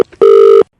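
A telephone disconnect tone after a prank call is hung up: a short click, then a single steady electronic beep lasting under half a second, loud and clear, with no talking.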